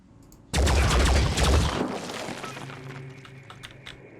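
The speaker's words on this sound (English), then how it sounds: "Impressive explosion." A sudden loud explosion in the tactical video game Phoenix Point erupts all at once, then rumbles and crackles as it slowly fades over a few seconds.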